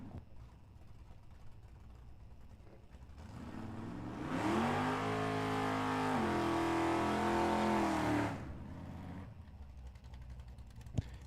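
A Dodge Hellcat at a drag strip roars past, its engine swelling from a distant rumble to a loud sustained blast, then fading away.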